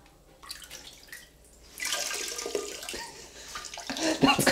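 Water sloshes and drips as a sponge soaks up liquid and is wrung out, with quiet splashing that grows into louder trickling and squeezing near the end.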